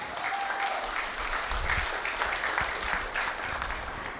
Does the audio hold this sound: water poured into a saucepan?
no